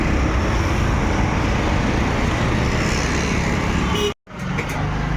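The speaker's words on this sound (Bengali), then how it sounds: "এটা রাস্তা, হাইওয়ে।" Steady roar of highway traffic, with cars, trucks and buses rushing past continuously and loudly close by, cut by a brief dropout near the end before the road noise returns.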